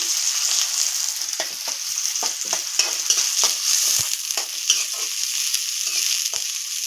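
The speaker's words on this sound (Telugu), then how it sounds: "Oil heat ఎక్కిందండి. ఆనియన్స్ వేసుకున్నా." Sliced onions hit hot oil and fry with a loud, steady sizzle and crackle, punctuated by several sharp stirring scrapes and pops, close up with no talking.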